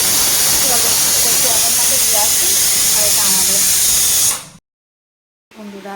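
Steady loud hiss of steam from a pot of potatoes boiling in a home kitchen, continuous for about four seconds before cutting off abruptly, then resuming briefly.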